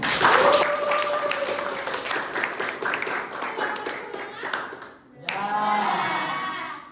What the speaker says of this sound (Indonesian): Ayo kita berikan aplaus untuk kita semua.